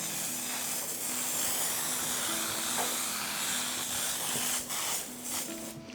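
A can of velvet cocoa butter spray is sprayed onto a Christmas chestnut log dessert, making a steady close hiss in sustained bursts with a brief pause near the end.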